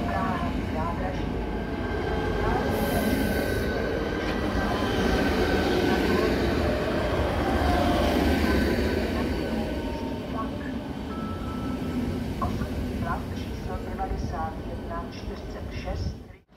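A Czech Railways passenger train rumbles steadily through Praha-Vršovice station, loud and close, under a public-address announcement.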